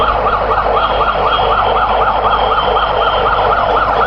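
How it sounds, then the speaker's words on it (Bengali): An ambulance siren wails at Osmani International Airport in Sylhet, at the site where a plane skidded off the runway and caught fire. The rising and falling cycles are loud, close and continuous, with a low vehicle rumble beneath. "সার্জনের দপ্তর থেকেও একটি অ্যাম্বুলেন্স এসে পৌঁছে গেছে"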